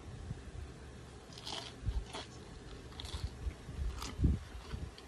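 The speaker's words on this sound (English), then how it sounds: "Listen to this crunch." Crisp, irregular crunching of injera chips dipped in guacamole made from avocado, onion and tomato, heard up close as several sharp bites and chews with low mouth sounds between them and no talking.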